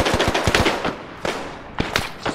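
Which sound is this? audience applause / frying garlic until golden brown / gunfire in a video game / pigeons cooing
gunfire in a video game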